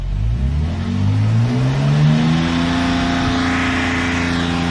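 A Porsche 996 engine held at high revs while waiting for the cooling fan to kick in, a loud close-up rev whose pitch climbs and then settles into a steady sustained drone.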